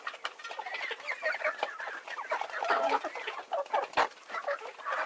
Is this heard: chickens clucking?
yes